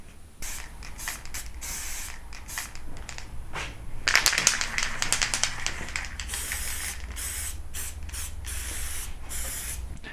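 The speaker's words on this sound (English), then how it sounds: "I've given it a few coats of white spray paint" White spray paint hisses from an aerosol can onto a model ship in bursts, with a louder, denser spray in the middle, while faint mechanical clicks and rattles sound near the can.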